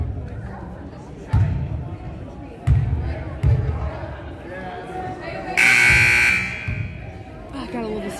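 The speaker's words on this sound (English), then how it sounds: "Oh, I gotta love the sound of the buzzer." A loud electronic buzzer blares for about a second during a Special Olympics basketball game in a gym, amid sharp ball bounces and thuds, with a commentator speaking throughout.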